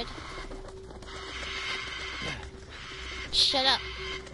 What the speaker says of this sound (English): These crows.